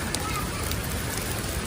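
Hail pounding down during a storm, a dense, constant hiss of impacts filling the whole clip without pause, loud and close.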